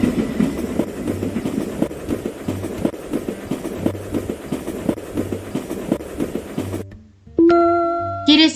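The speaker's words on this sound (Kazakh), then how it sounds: "Біздің жолаушымыз пойызға мініп саяхаттайтын болады." Train sound from a video game quiz, a rhythmic clickety-clack of rail cars running steadily, ending in a short burst of bright electronic game tones.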